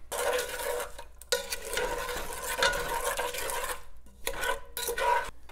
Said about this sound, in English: Stir it all up in there.